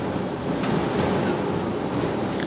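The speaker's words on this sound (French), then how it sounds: "Les vagues claquent sur les rochers." Surf pounding against rocky shore on St. Martin ahead of Hurricane Irma, a steady, dense roar of breaking waves with gusty wind noise, loud and continuous throughout.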